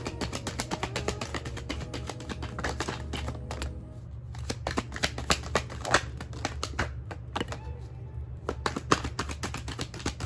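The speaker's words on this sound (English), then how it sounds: "Shuffling them up, letting them fall as they may." Tarot cards are shuffled and dealt during a reading, giving a close, continuous stream of rapid papery flicks and taps with bursts of riffling, fairly soft, with no talk over them.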